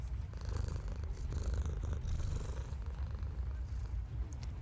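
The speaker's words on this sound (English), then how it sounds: "those are loud purrs, and I've never seen a cat be this friendly before" Loud, steady purring from a friendly cat in the video game Forget Me Not, a continuous low rumble that runs close up and unbroken throughout, alone with no talk over it.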